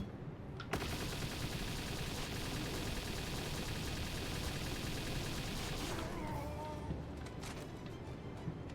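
A video game gun fires continuously in rapid bursts at an oil rig tower and a helicopter. The shots are loud and dense, cut off briefly near the end, with a voice faintly underneath.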